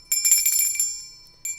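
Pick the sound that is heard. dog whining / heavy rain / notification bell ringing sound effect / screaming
notification bell ringing sound effect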